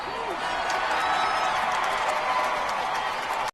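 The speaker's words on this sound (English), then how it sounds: "Crowd going wild for Lou Bricknell going into his 6th inning." Crowd noise at a Little League baseball game, a steady broad wash of cheering and clapping from the stands that holds evenly throughout, with no talk over it.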